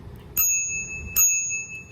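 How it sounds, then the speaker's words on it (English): A handlebar bell on a WindOne S16 e-bike rings twice in two sharp, bright metallic dings about three-quarters of a second apart, each decaying quickly, close and clear with no talking. "This here is the bell."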